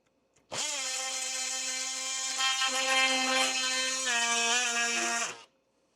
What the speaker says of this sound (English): Use this cold saw. Really like this saw. Taking off about the same amount I did with the plastic.